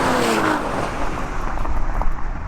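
A McLaren 720S and an 860 hp Nissan GTR drag race on the street. The two engines roar loud and close in one continuous rush as they blast past, with a broad wind-and-engine wash and no talking.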